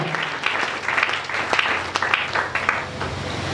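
A church congregation claps together in sustained, lively applause, dense and fairly loud with a faint murmur of voices mixed in.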